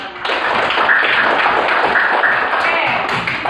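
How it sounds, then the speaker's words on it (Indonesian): Students in a classroom clap together, a dense, steady patter of many hands lasting a few seconds, loud and close, with a little voice mixed in. "ya tepuk tangan dulu untuk kalian kita yang pertama"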